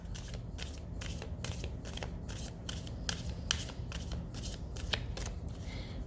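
Tarot cards being shuffled in a steady run of crisp, papery riffles and slides, close and fairly loud, with no one talking.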